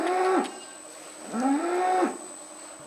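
A cow that calved overnight on an agricultural school farm calls to its newborn calf with two loud, close, drawn-out moos separated by a short pause.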